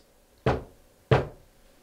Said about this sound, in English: Can you make two knocks like this?